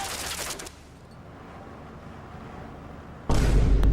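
Gunfire in the video game Limbo: a loud, harsh burst opens, then a quiet stretch of about three seconds, then a second heavy blast that keeps roaring to the end.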